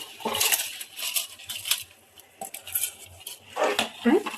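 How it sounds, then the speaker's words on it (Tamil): A ladle stirs soaked rice and lentils in a pot of boiling water, giving repeated close metallic scrapes and clinks in an uneven rhythm with short pauses between, and no talking. "நல்லா கிண்டி விட்டுலாம்."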